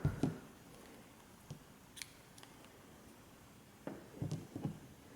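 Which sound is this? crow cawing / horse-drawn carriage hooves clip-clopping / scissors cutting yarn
scissors cutting yarn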